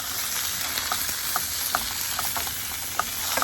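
Meatballs for albondigas soup browning in a hot pan, a steady close sizzle and crackle with scattered small pops throughout, no voices.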